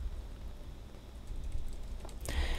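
Fast typing on a computer keyboard while writing C# code, soft continuous clicking with a burst of louder key taps near the end, close and quiet, no talking.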